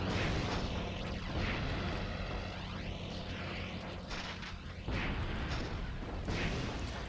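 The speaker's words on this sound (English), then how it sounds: "That plane's out of control." An out-of-control plane in Spider-Man 2 on PS1, a loud, continuous engine roar with whining, shifting tones and a sudden surge partway through, no voices over it.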